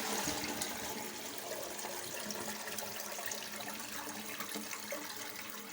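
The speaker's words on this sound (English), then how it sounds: "the next step is to drain all the water out." Water draining out of a toilet tank during a fill valve replacement, a steady splashing and gurgling rush that is strongest at the start and then settles into a continuous flow, with no voices.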